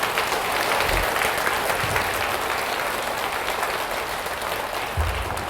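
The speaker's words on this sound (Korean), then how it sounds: "모든 관계자한테 감사 박수" An audience at a health lecture for a senior center's third-anniversary event claps in sustained, dense applause, steady and fairly loud from start to finish.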